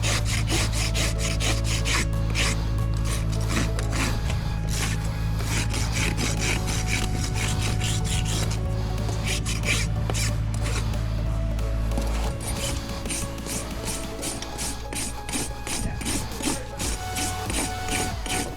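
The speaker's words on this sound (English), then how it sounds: "Get his foot trimmed up, balanced up." A farrier rasps a horse's hoof while trimming and balancing it, making steady repeated scraping strokes up close, rhythmic and loud over a low background hum.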